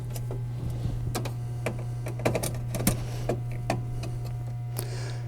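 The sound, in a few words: tightening four screws on a 1954 Seeburg jukebox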